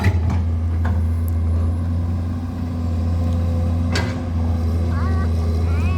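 A Komatsu PC200-8 excavator's six-cylinder diesel engine runs at a steady idle on a drainage-pipe trenching job, a constant low rumble throughout with brief knocks and faint talk over it.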